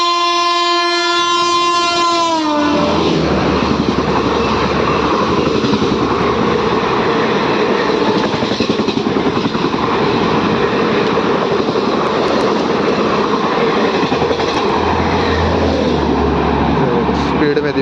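Garib Rath Express 12204, Amritsar to Saharsa, blasting a long horn then roaring past at high speed, a loud sustained rush of wheels and carriages close by that continues to the end.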